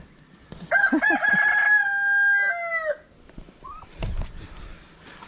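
At a farm poultry pen with chickens and turkeys in Bolinao, Pangasinan, a rooster crows loudly nearby with a long drawn-out call, followed by softer clucking and scattered chicken noises.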